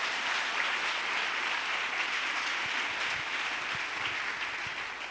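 Steady, dense applause from a church congregation, many hands clapping together at a constant level throughout without a break.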